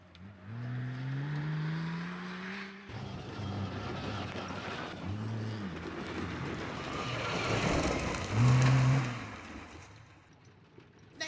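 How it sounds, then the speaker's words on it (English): A rally car runs a forest stage at the 2019 AWDC round at Glanusk. Its engine revs rise and fall through gear changes as it approaches, grows louder, and passes by. "Next up is the car that's 4th place in Class 9, that of Lizzie Jones"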